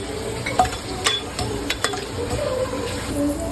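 Cinnamon, cloves, bay leaf and cardamom crackle and sizzle in hot oil in a cooker, with scattered sharp pops and light clinks over a steady frying hiss. No one speaks.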